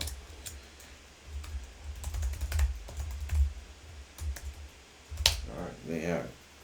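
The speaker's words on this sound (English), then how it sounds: "Let's type this out" Typing on a computer keyboard comes in irregular bursts of crisp key clicks, close and moderately loud, with a short stretch of someone speaking near the end.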